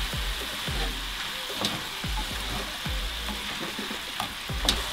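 Food sizzles steadily in a pan while a utensil scrapes and stirs it in repeated strokes, close and moderately loud.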